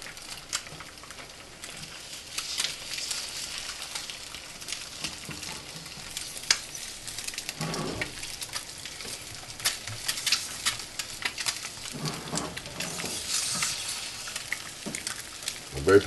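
Sunny-side-up eggs frying in a pan over medium-high heat make a close, crackling sizzle with irregular pops and spatters that runs steadily throughout.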